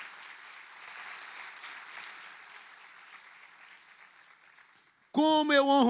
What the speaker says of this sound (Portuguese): Você pode dar uma salva de palmas aos nossos líderes?